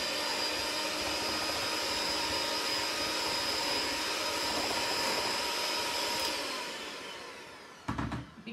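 An electric hand mixer beats softened mascarpone cheese into an egg yolk and sugar mixture with a steady, loud whirring drone. It winds down near the end, followed by a few clattering knocks, with no talking.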